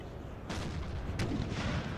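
Cannon fire in a Napoleon Total War battle: two deep booming shots about a second apart, each with a sharp crack, over a constant rumbling battlefield background.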